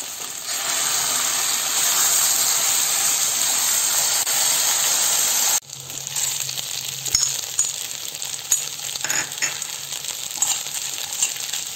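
Dried red chillies roast in a pan for a Bengali elephant apple pickle. A loud, steady sizzling hiss cuts off abruptly midway, leaving a quieter crackle with scattered clicks and taps.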